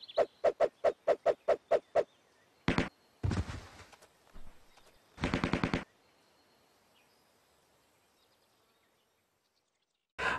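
Gunfire in a cutscene from the PS1 game Team Buddies (2000): a rapid string of about ten evenly spaced shots, then several separate longer bursts of fire, a quiet stretch, and one final burst at the end.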